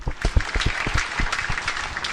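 A brief burst of applause from a small group, scattered claps rising and fading over a couple of seconds.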